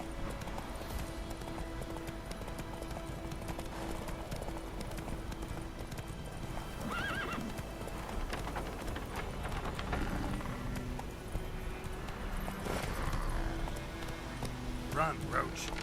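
Geralt's horse Roach gallops in Witcher 3 gameplay, a steady rhythmic clip-clop of hooves running throughout at moderate level, with a voice talking over parts of it.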